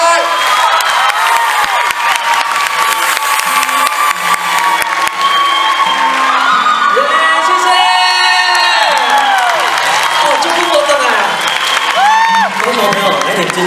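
A concert audience at a Kaohsiung show applauding and cheering for a Taiwanese singer, loud sustained clapping mixed with whoops and shrill shouts throughout, with voices calling out over the crowd.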